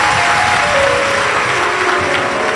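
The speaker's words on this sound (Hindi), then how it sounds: "एक बार जोरदार ताली बजाकर" Steady, dense applause from a large audience at a Shiv Mahapuran katha in Bathinda, Punjab; loud and continuous throughout, with no voices rising above it.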